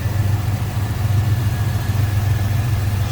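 A V8 crate engine in a 1970 Chevrolet Monte Carlo idles smoothly with a deep, steady low rumble and no revving, close by and continuous.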